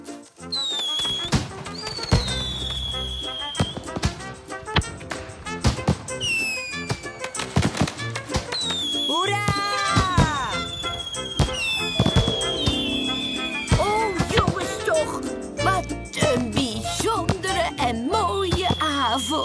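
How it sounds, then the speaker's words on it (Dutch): Cartoon fireworks crackle and pop in quick, dense bursts with rising whistles, loud and continuous, mixed with music and brief character voices. "Je bent precies op tijd voor het vuurwerk."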